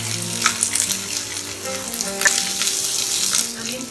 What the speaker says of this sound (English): Now we'll cook the onion till translucent.